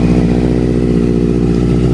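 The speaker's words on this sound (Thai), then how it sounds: "ตัวนี้นะครับสตาร์ททีเดียวติดนะครับ" A Honda CBR650F sport motorcycle idles close by, a steady, even four-cylinder burble with a low throbbing rhythm and no voices over it.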